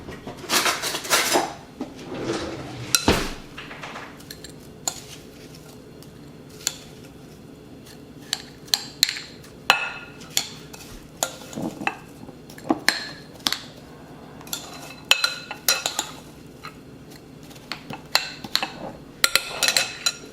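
A metal spoon scraping and tapping as it packs ice firmly into a cup for a cucumber lime raspado, repeated clinks and crunchy scrapes at close range, irregular and fairly loud.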